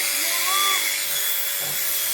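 An electric, mains-powered shearing machine runs while cutting a goat's wool, giving a steady, close, hissing motor whine that holds for about two seconds.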